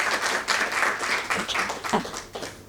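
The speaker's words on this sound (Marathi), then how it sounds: "आणि आपण एक टाळ्या तर वाजवू शकतो." Audience applause at a Marathi book launch celebrating a new woman author's work: a steady wash of many hands clapping for a few seconds, fairly close and even, with no one speaking over it.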